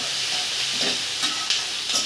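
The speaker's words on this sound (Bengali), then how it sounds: "পেঁয়াজটা ভালো করে ভেজে নিই আমি" Onions frying in a pan for Bengali mutton curry hiss in a loud, dense, continuous sizzle, close up, with a few faint stirring touches and no talk.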